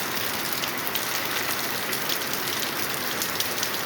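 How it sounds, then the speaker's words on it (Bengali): Steady rain falls continuously, a dense even hiss with faint scattered drops, fairly close and with no voices. "বিকেলে বৃষ্টি হচ্ছে"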